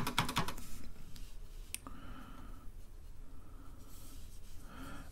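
A keycap clicks and snaps onto a vintage Model 4 keyboard, with a quick cluster of sharp plastic taps at the start and a couple of softer clicks afterward, close and fairly quiet.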